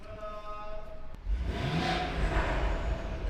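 A BMW E30 drift car at a Formula Drift event roars up to speed after a brief lull, loud broadband engine noise rising and holding steady at close range.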